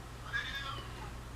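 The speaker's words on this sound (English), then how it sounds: "it's a kitty" A cat gives a single soft meow, fairly faint against a low steady hum in an indoor room.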